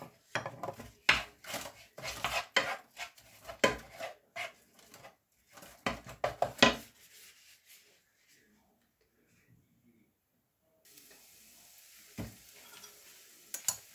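Onions and garlic being chopped on a board in a home kitchen, a run of quick, close knife taps in irregular bursts, then a long near-silent pause before faint sizzling returns; someone speaks between cuts.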